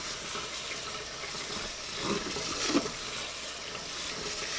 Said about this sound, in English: he's rinsing off the outside, then he'll go once more on the inside